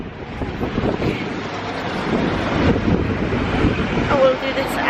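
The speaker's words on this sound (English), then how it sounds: "it's raining and windy and minging" Blustery wind and rain outdoors buffeting the microphone, a continuous rough rushing noise with faint rain hiss and no clear talk.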